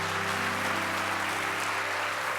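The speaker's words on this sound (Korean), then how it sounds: "우리 모두 힘을 모아 선교지에 박수 한번 보내주시죠." A church congregation at a Christmas thanksgiving service applauds for missionaries: dense, even clapping over a steady low hum throughout a brief stretch.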